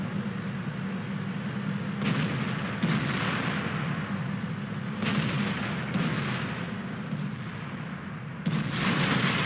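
Tank guns in World of Tanks firing during a battle on Himmelsdorf, an ISU-152 among them. Several heavy booming shots come at irregular intervals over a steady rumbling din, some close and loud, others further off.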